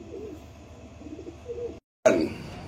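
Pigeons kept for sale coo in soft, repeated throaty bursts close by, broken by a brief silence before a louder burst of noise.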